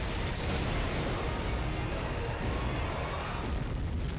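Massive explosions from the Just Cause 3 video game trailer roll out as a dense, continuous wall of booming blasts and rumbling, loud and sustained for the whole stretch.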